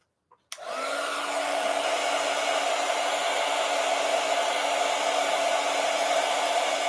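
A hair dryer blows on painted envelopes to dry the paint, switching on with a click and then roaring steadily at close range for several seconds, loud and unbroken with no talk.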